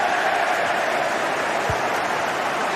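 Stadium crowd at Stamford Bridge in a football video game, a steady loud roar of cheering and applause filling the space throughout.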